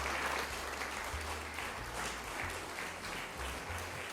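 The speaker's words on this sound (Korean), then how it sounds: "큰 박수로 환영해 주십시오" An audience at a Korean academic conference lecture claps together in welcome, a sustained, fairly even wash of applause that lasts the whole stretch, with no talking.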